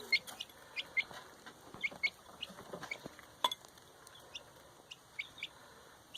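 Young chicks kept indoors in a house give faint, scattered high peeping chirps at irregular intervals against a quiet room.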